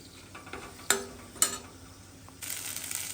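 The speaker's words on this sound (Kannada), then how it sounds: "ಹಾಕಿ ಎಲ್ಲ ಮಿಕ್ಸ್ ಮಾಡಿ ಸ್ವಲ್ಪ ಅದು ವಾಸನೆ ಹೋಗೋವರೆಗೂ" Garlic and rice mixture is stirred in a hot pan: a couple of sharp utensil clicks against the pan, then a rising, steady sizzle of frying, heard close with no talking.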